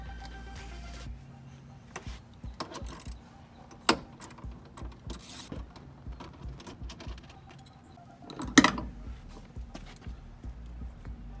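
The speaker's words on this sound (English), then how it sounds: "If you push this seat a little bit forward, you gotta remove these bolts as well." Bolts being removed from under a Honda Civic seat during a fuel pump job, heard as close metallic clicks, taps and ratcheting clatter in an irregular rhythm, with a couple of louder knocks and no one talking.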